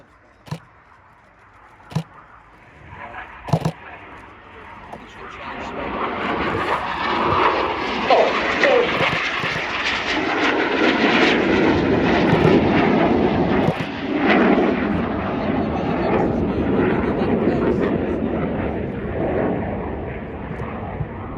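RAF Red Arrows jets in a flying display performing a barrel roll, a few sharp bangs early on, then a loud roaring engine noise building and sustaining overhead for most of the time.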